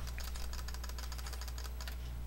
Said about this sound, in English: you just heard the clicking of your mouse